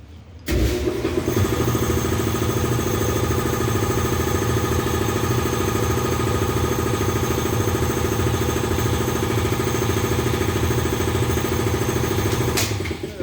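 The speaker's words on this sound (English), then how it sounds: "Shut the air compressor off because you won't hear me" An air compressor in a workshop kicks on and runs, a loud steady motor drone with a rapid pulsing chug that continues evenly before cutting off near the end.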